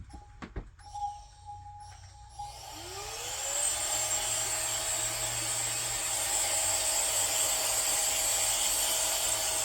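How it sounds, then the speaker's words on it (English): A small handheld vacuum blower clears dust off a cast epoxy clock. A few handling clicks come first, then the motor spins up with a rising whine and settles into a loud, steady, airy roar. "Now what I'm going to do is I have this little vacuum thing that I'm going to blow all this extra dust off."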